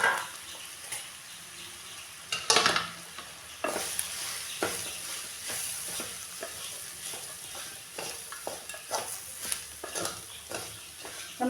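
Ground jackfruit seeds being stirred into fried onions in a pan, a steady sizzle with repeated scraping, clattering spoon strokes at an uneven rhythm, close and fairly loud with no talking.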